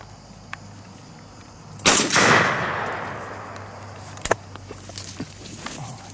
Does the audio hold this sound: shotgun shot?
yes